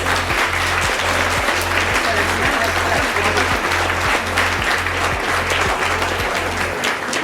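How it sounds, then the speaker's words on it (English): Audience applause at a national seminar on sustainable energy, a steady dense wash of many hands clapping with a repeating low musical beat playing underneath throughout. "Big round of applause."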